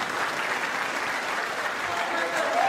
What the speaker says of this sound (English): there's the cheers from the crowd